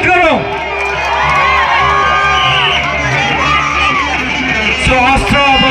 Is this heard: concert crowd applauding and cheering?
yes